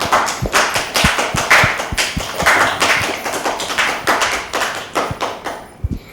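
An audience at a children's Independence Day program in Pakistan claps for a child's correct quiz answer, with sparse, uneven hand claps and sharp individual slaps standing out close by over several seconds.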